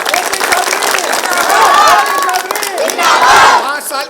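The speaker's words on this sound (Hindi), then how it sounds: "जोरदार ताली बजाएंगे।" A large crowd at an Uttar Pradesh election rally cheers and claps loudly and continuously, with swelling shouts rising above the noise.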